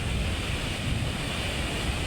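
Large ocean waves crash continuously along the coast in a loud, unbroken wash of surf, with wind rumbling against the microphone throughout.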